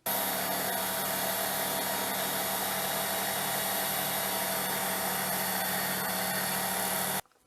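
Steady, continuous high-pitched grinding whine of a Work Sharp WSKTS2-I electric belt knife sharpener honing a blade on the purple belt, running loud and unbroken for several seconds before cutting off abruptly.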